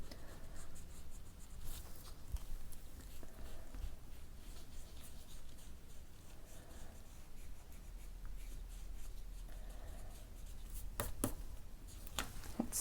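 Pencil drawing on paper for a handmade Rapunzel corner bookmark: soft, continuous scratchy strokes with occasional sharper scrapes and taps, quiet and close, with no one speaking.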